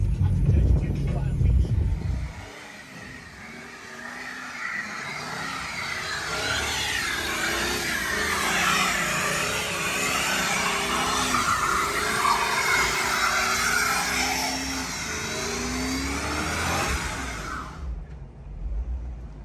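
A Lexus SC300 with upgraded big brakes does a burnout, its engine revving hard in a sustained roar with rising and falling pitch for about fifteen seconds before cutting off abruptly.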